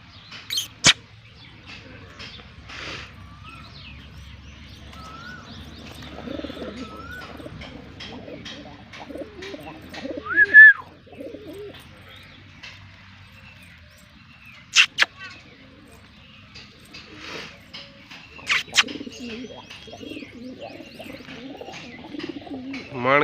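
Several kinds of pigeons give soft, intermittent coos and calls, with a few sharp clicks and knocks in a quiet setting and faint voices now and then.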